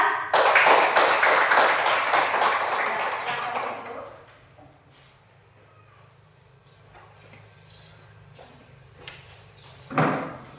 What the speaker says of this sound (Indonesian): mari kita tepuk tangan kepada kelompok 2